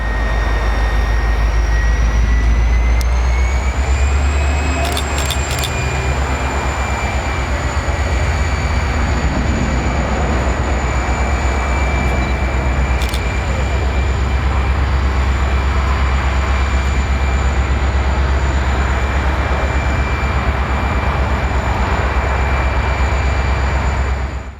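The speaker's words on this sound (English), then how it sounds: "with a heavy load, this locomotive sure is a smoker." A heavily loaded locomotive hauling a train, its engine roaring loud and steady with a deep rumble and droning tones that shift in pitch, plus a few sharp clanks.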